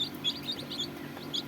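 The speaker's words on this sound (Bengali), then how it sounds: "টাইগার মুরগির বাচ্চা।" Small tiger chicken chicks peep in a quick series of high, thin chirps. The calls are faint and fairly close, over a low steady background hum, with no voices.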